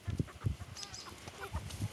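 Chickens clucking close by in short repeated bursts, with soft rustling between the calls.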